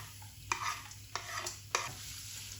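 Onion fries in oil in a pan for a dhaba-style dum aloo masala, with a soft steady sizzle under three evenly spaced scrapes of a spoon stirring, close and fairly quiet.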